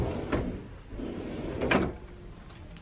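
Large drawers in a Royal Caribbean Anthem of the Seas balcony cabin slide and bump shut, giving two or three close wooden knocks over quiet room tone.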